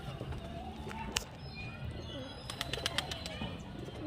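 Giribaz and Madrasi pigeons coo and flutter nearby, with a few sharp wing flaps and light scuffling over a steady low outdoor rumble.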